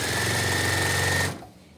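Sewing machine running on a long stitch as leads are attached to a quilt, a loud, close, steady mechanical whir that stops abruptly after about a second and a quarter.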